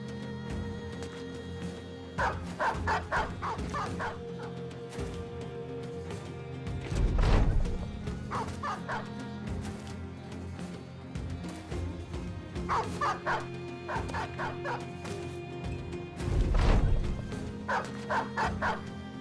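Dogs in a video game bark and yip as they chase down an archer, repeated bursts of barking arriving in clusters over a steady game soundscape with occasional heavy thuds.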